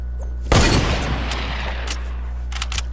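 Sniper gunfire in the video game Fortnite, a single sharp shot with a short decaying tail, fairly close over steady background noise.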